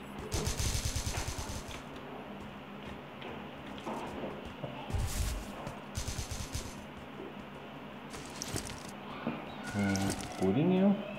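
Sniper rifle gunfire in CrossFire sounds as several sharp, loud shots spaced through the stretch, with scattered smaller bursts and game effects, while someone talks over much of it.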